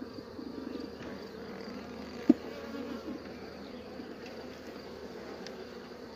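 Honey bees hum at an opened hive from a failed swarm colony, a steady close drone with one brief click partway through and no talk.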